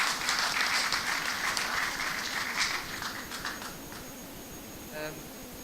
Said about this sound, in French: on va faire un applaudissement pour cette équipe qui nous a aidés à grandir